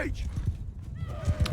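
Cavalry horses in the battle game Bannerlord whinny loudly at the start, then hooves thud in a rapid galloping rhythm beneath a voice calling out over the fight.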